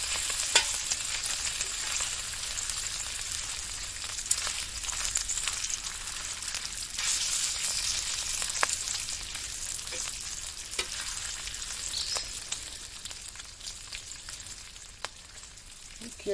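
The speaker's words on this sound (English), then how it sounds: "just let that sizzle a while" Goetta and bacon sizzle in a pan over a campfire, a steady close crackling hiss with scattered sharper pops running throughout.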